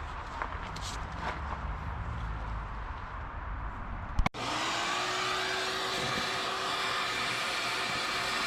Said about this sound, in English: I'm gonna try to grab my little shop vac.